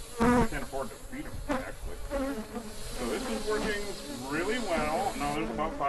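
A swarm of about 5,000 aggressive killer bees buzzes close by, a dense wavering drone that rises and falls as individual bees pass near, under a short burst of louder noise at the start.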